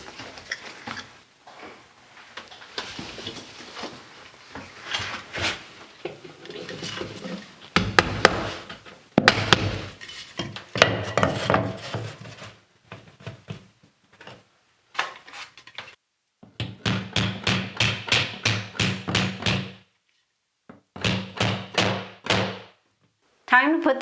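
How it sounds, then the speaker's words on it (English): A nail is hammered into a 3/4-inch AC plywood shelf, with bursts of sharp, rapid hammer blows separated by pauses, some heavy thuds and knocks; a person speaks between the strikes. "I'm going to go ahead and put that nail in now."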